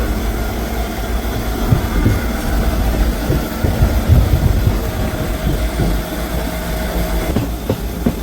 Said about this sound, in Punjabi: ਆਪਣੀ ਜਿਹੜੀ ਟ੍ਰੇਨ ਆ ਉਹ ਨਾਭਾ ਰੇਲਵੇ ਸਟੇਸ਼ਨ ਤੇ ਪਹੁੰਚ ਗਈ ਹੈ ਜੀ